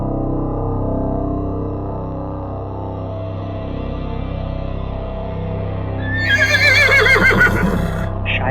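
A frightened horse neighs loudly near the end, a shrill, shaky whinny rising over a low, steady background drone with faint hoof clatter, in a dramatized Hindi tale of a king preparing his warhorse for battle.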